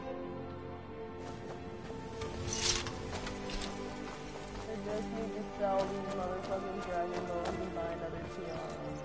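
Horse hooves clip-clopping in a PS4 video game, soft scattered hoof beats under a dense wash of game music and ambience, with a voice talking over parts.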